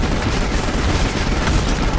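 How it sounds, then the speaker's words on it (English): Rapid submachine gun fire from the video game Final Fantasy XV, a dense, continuous burst of shots lasting about two seconds at steady loudness, with no talk over it. "It'd be nice if you didn't have to go scoped on the submachine gun."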